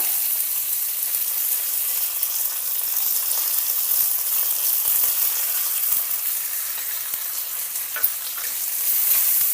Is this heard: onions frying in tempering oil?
yes